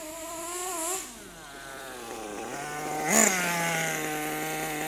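The engine of a Kyosho USA-1 RC monster truck runs close by, revving sharply twice with rising and falling pitch, then settling into a steady buzzing idle.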